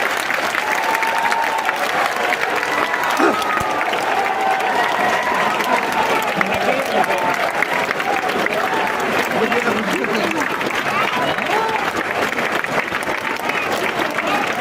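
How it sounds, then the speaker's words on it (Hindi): Steady, dense crowd applause welcoming Nitish Kumar at a celebration of Samrat Ashok's birth anniversary, sustained at an even level throughout with voices talking underneath the clapping. "आप लोग तालियों के साथ बुलाएं"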